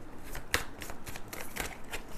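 Tarot cards are shuffled and drawn by hand in quick riffling bursts, close and crisp, with a sharper snap partway through as a card comes free.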